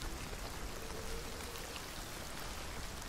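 Rain in the video game Hunt: Showdown, a steady broadband hiss of falling drops pattering on surfaces, continuous and fairly faint with no voices over it.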